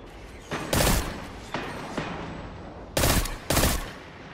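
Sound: pulse rifle gunfire in a video game

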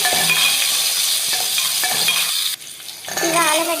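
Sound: onion and curry leaves frying in oil, stirred

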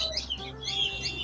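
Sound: budgie parrots chirping in a bird shop

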